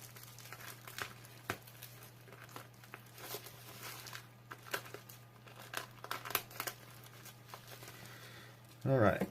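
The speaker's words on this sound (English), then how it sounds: "So I'm just trying not to damage any of the cards as I pull them out of here." Taped Digimon trading cards are pulled out of their packaging, giving soft, intermittent crinkles and rustles of plastic and tape at close range, with a louder burst of crumpling at the end.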